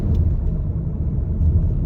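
A car runs nearby as a steady low rumble with a broad engine drone, fairly loud and unbroken through the short stretch, with no clear pass-by swell and no talking.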